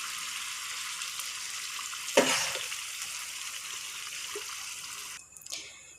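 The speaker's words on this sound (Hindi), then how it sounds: "वो पानी शामिल करेंगे हम इसके अंदर।" Meat broth left from boiling mutton is poured into broken rice for a restaurant-style biryani, a steady rushing pour with a sharper splash near the middle and a brief clatter near the end.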